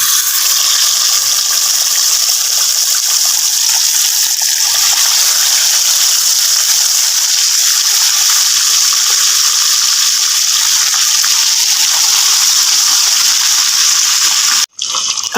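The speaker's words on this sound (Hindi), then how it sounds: "यहाँ हमारा कुकिंग ऑयल जो है वो गर्म हो रहा है और अब हम इसे फ्राई करेंगे" Fish pieces deep frying one by one in hot cooking oil for a Lahori masala fish fry, a steady loud continuous sizzle and hiss throughout with a brief dropout near the end.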